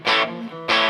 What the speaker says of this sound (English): That distortion is coming from the amp itself